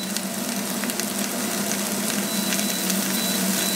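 Vegetables for a vegetable stock sweat gently in a pot without browning, giving a soft, steady sizzle. The sound runs continuously with no talking.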